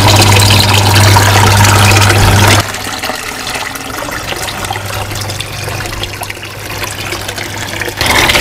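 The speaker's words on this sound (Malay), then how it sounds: "ni kelajuan air yang sesuai dalam kita punya solid waste filter ataupun kita punya radial flow filter" Water pours steadily into an aquaponic solid waste filter in a tilapia gutter system, a loud rushing flow that eases to a softer trickle for several seconds before surging again at the end.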